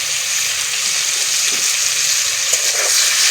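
Potato pieces frying in hot oil with a little salt and turmeric, a steady bright sizzle and hiss running throughout with faint crackles.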